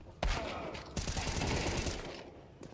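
Rapid automatic gunfire inside a bomb site during a professional Counter-Strike match, a dense burst of rattling shots lasting about two seconds, with a sharper crack at the start.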